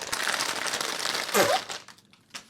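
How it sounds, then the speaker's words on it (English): Blind box packaging torn open in a crinkly rip. Dense crackling and crumpling plastic or foil fills the first second and a half, ends in a louder tearing burst, then fades to sparse rustles. "Oh, that was a nice rip."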